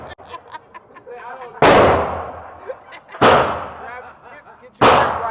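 Three loud, sharp gunshots at an outdoor shooting range, spaced about a second and a half apart, each with a short ringing decay; voices chatter faintly in between.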